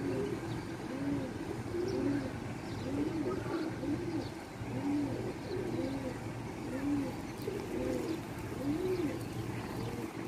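Galo pigeons in Karachi cooing repeatedly in soft rhythmic phrases over a constant outdoor background hum, fairly faint and steady throughout.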